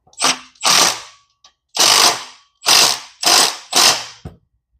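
A hand ratchet snugs down bolts in quick repeated bursts, six loud close-up clicking runs separated by short pauses, with no talking.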